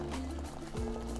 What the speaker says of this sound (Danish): Så tager du dit kogende vand og hælder i en kop eller en lille skål